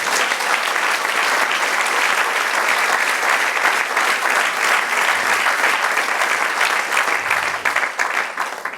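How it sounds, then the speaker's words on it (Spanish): A church congregation applauds the Lord during a sermon: loud, full clapping from many people, sustained and even, tapering slightly near the end. "Denle un aplauso al Señor"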